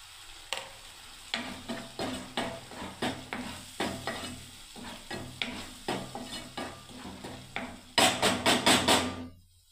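A spoon stirs semolina upma in a pan, sizzling softly with a steady rhythm of scrapes and taps against the metal, ending in a quick flurry of sharper knocks.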